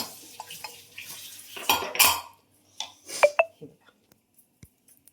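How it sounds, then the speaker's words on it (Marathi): Metal clanks and scrapes as a heavy pressure cooker lid is worked loose and lifted after cooking dal, followed by a couple of ringing metallic taps, then quiet. "मी तुम्हाला कुकरचं झाकण काढून दाखवते"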